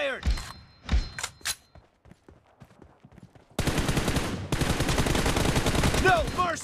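Gunfire in the mobile battle royale game BGMI, a team deathmatch match: a few sharp shots early on, then dense, sustained bursts of automatic fire that grow louder and more continuous, with game voice callouts mixed in.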